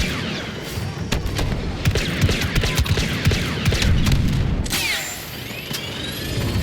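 Dense blaster fire from a Star Wars Battlefront 2 battle: rapid overlapping shots and booms, loud and continuous, with sharp bursts throughout and a heavy rumbling bed beneath.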